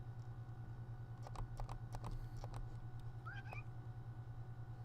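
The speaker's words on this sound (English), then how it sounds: "That's a cat." A house cat gives a short, faint meow over a steady electrical hum, with scattered keyboard clicks from nearby typing.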